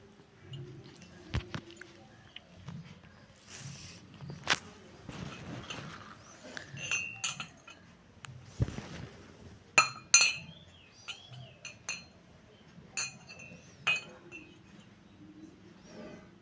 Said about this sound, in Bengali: আর এই যে কাপ ডিশের সেট। তো এই যে আর এই যে প্লেট নেওয়া হয়েছে, কাপ আর বাসন নেওয়া হয়েছে 5টা।